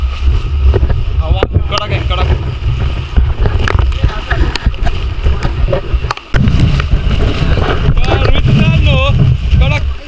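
Strong wind gusting at a hill viewpoint in Matheran, buffeting loudly across the microphone in a continuous roar while someone talks over it.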